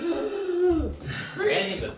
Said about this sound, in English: You begin to hack and cough